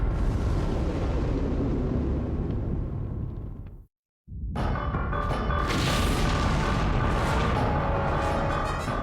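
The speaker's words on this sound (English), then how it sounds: "how different a nuclear blast in space looks" A nuclear blast in space rendered as a loud, sustained rumbling boom that cuts out abruptly into brief silence, then resumes as a roaring, crackling explosion with bright bursts layered over the deep rumble.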